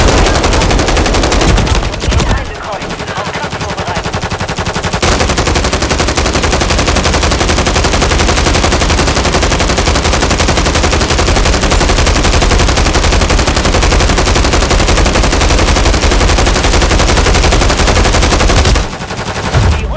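Sustained, dense automatic gunfire from a Call of Duty: Modern Warfare 3 multiplayer match, loud and continuous for nearly the whole stretch, with a brief lull early on and near the end.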